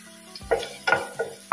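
Garlic stir-fries in rice bran oil over high heat, giving short sizzling bursts and stirring scrapes in a quick, uneven rhythm, close and fairly loud.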